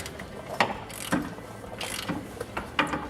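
Metallic ratcheting clicks and knocks from loosening the upper ball joint on a Jeep WJ's front suspension, several close, sharp bursts spread over a few seconds with no talking.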